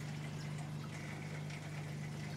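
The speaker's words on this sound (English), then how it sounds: "I always find it better if you hold it this way, it stops the glugging a little bit, and just very slowly" Screen wash poured slowly from a bottle into a car's washer reservoir: a steady, close liquid trickle with light glugging over a constant low hum, and no talking.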